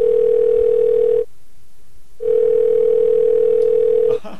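Skype phone call ringback tone: a loud, steady electronic tone sounds close by, breaks off for about a second, then resumes and holds before cutting out.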